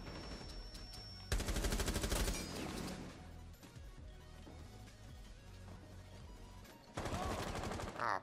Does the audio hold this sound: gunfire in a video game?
yes